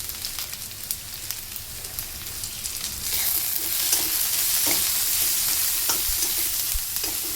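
Mixed vegetables stir-fry in oil over high gas heat for fried rice, a steady hiss that swells louder partway through, with scattered clicks and scrapes of stirring.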